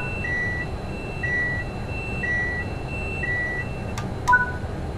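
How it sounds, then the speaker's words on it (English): In a train simulator game, a tilt authorization and speed supervision alarm repeats as a series of evenly spaced electronic beeps over a steady cab hum, ending with two sharp clicks as it is acknowledged. "This is the tilt authorization and speed supervision alarm and will need to be acknowledged."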